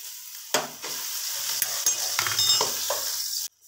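Ginger garlic paste frying in hot oil with browned cumin seeds, making a steady close sizzle broken by a few stirring scrapes and clicks of a spoon in the pan, with no talking.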